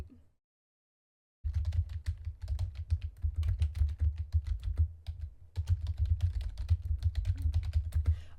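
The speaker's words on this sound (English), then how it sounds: "I am typing." Fast continuous typing on a computer keyboard, dense clicking keystrokes close to the mic after a short silence, pausing once briefly before resuming.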